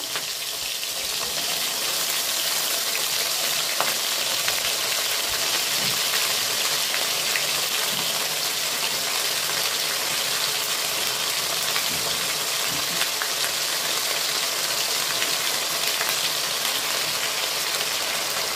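Ginger paste frying in a pan, a dense, loud, unbroken sizzling hiss that holds steady for the whole stretch, with faint clicks of cookware and no talking.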